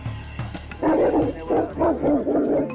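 Several deep, heavy barks and yips from Mastiffs in a quick irregular series, close by and loud, following a quieter stretch with faint movement.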